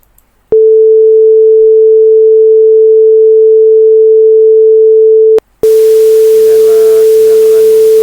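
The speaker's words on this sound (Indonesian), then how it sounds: "Pertama, saya akan memutar sinyal sinusoida asli terlebih dahulu." Pure sine wave test tone, loud and perfectly steady, holding for about five seconds, cutting off briefly, then resuming with a faint hiss and additional low tones underneath.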